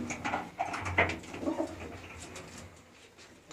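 A pigeon coos softly at close range among a flock of pure Malwa-breed pigeons, a few low throaty calls in the first two seconds, fading into quieter rustling and ambient noise.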